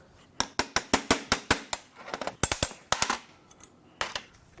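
A hammer hits parts of a destroyed Subaru WRX EJ20X turbo engine during a teardown, making a quick run of sharp, loud metallic bangs followed by a few scattered strikes after brief pauses.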